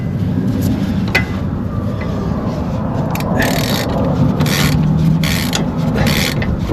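A ratchet turns a bolt on a Dodge Journey front strut, giving a series of quick clicking bursts over a steady background rumble in a garage setting, moderately close and repeating every half second or so.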